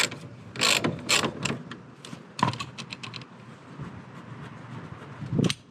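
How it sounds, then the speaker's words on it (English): A ratchet loosens the large rear axle nut on a Honda PCX150 scooter, giving close, sharp clicking bursts and rapid pawl ticks interspersed with clanks of the tool against metal. "This big old nut's got to come off there."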